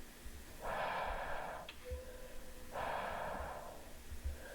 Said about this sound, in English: Stop breathing so fucking hard.